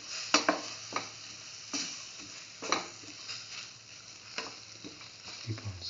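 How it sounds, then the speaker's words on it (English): Spinach leaves and ash gourd stir-fry in a pan, a constant sizzle punctuated by sharp spatula scrapes and clinks against the metal at irregular intervals, close up with no talking. "Start and mix the spinach leaves"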